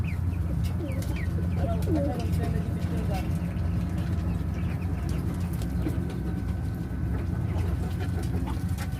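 Soft coos and chirps of ducks over a constant low rumbling background, with a voice talking briefly.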